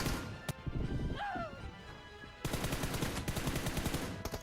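Gunfire in the mobile shooter BGMI, with rapid automatic bursts and bullets striking cover, rattling loud and near in dense rhythmic volleys after a brief lull with a single sharp shot.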